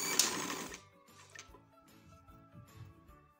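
A sewing machine stitches elastic cord onto a pair of capri pants, beginning with a louder burst of whirring and then running in short, quieter bursts with brief pauses between them.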